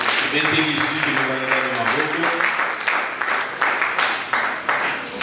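Church congregation applauding during a French-language Sunday thanksgiving service, a steady broad wash of clapping across the whole stretch with singing or voices running underneath.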